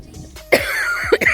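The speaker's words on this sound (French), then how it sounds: "Comme vous pouvez le constater, je tousse toujours." A person coughs twice close by, each a short harsh burst, the second following about half a second after the first.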